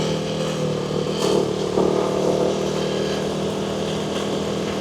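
KTM Duke 390 motorcycle engine running close by, a steady buzzing drone with brief revs and small surges in the middle, alone without talk.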